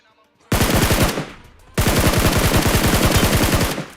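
Rapid automatic gunfire in a battle royale video game firefight, two loud sustained bursts of closely spaced shots separated by a short pause.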